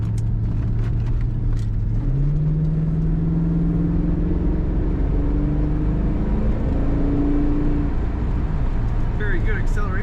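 A 1993 Chevrolet Corvette 40th Anniversary convertible accelerates from inside the cabin, the engine tone climbing smoothly through the gears as a loud steady drone.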